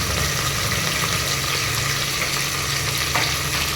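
Onions frying in hot oil for a spiced khara bath sizzle with a steady, dense hiss, close and fairly loud, with faint stirring scrapes underneath and no talking.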